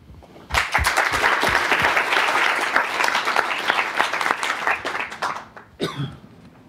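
Audience at a GTAC 2007 tech conference breaks into sustained applause welcoming a speaker, dense clapping filling the room for several seconds before tapering off with a cough or two at the end.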